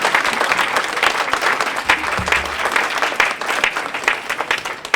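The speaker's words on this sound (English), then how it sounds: "a round of applause" Dense, loud audience applause honouring a researcher at a university community engagement tribute event, a continuous roar of many hands with a brief low thud partway through.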